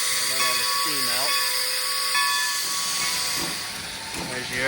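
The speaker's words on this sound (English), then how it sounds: "Let all the steam out." Steam hisses steadily from a locomotive at a Civil War Days railroad event, a broad continuous release with people talking over it in places.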